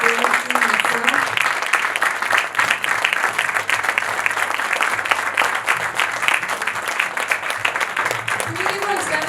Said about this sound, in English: A round of applause for Dorothy myself.